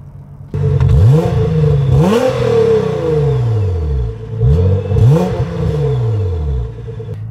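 A 2017 Nissan GT-R with an Armytrix exhaust revs hard, its engine note surging and falling in repeated close, loud sweeps.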